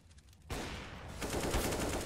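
Bursts of rapid gunfire crackle loudly from a Counter-Strike: Global Offensive match, with a quieter stretch before a dense, sustained volley.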